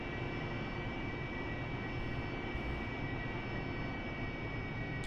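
A jet, shown as an AV-8B Harrier in DCS World, roars steadily through takeoff, its engine a dense continuous rumble with a high whine running throughout; no voices.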